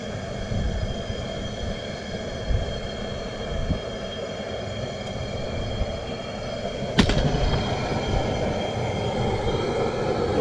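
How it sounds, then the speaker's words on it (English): A boiler's steady, droning mechanical roar runs throughout, fairly quiet and continuous, with a brief clank partway through. "I hope you can hear me all right with this boiler going"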